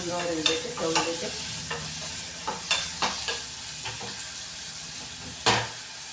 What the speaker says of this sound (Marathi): बघा कांदा थोडा तळत आला आहे